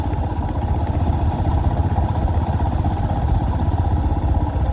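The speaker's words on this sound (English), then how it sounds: "I always find parking on a motorbike fairly easy." A Royal Enfield Himalayan motorcycle rides along, its engine giving a steady low, throbbing thrum with even rhythmic pulses, loud and continuous from the rider's position.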